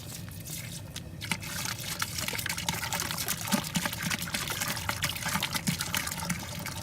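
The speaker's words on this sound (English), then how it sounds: "now we're gonna be adding our cold brew coffee" Cold brew coffee being poured into a homebrew imperial coffee stout, a steady liquid pour and trickle lasting several seconds at close range with no talking.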